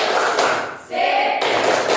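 Primary school pupils in a classroom clapping the "tepuk bagus" chant, a dense burst of many hands clapping together, a short dip, then a second loud round of claps.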